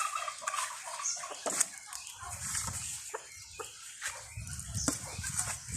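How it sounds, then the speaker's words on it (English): Turkeys on a free-range farm give scattered gobbling and clucking calls at moderate distance, mixed with other fowl and some low rustling and wing movement across the outdoor yard. "And here we have turkeys."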